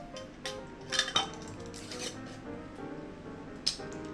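Metal tongs handle hot glass jars of homemade strawberry jam, giving light clinks and taps of metal against glass in a few scattered bursts, faint and close, with a brighter clink near the end.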